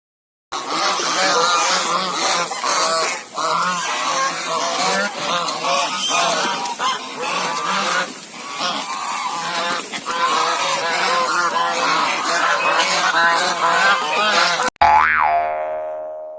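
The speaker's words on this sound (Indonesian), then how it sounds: "Angsa, goose." A goose honking repeatedly in loud, close, nasal calls of varying pitch that continue almost without pause, followed by a brief springy boing at the end, no talk.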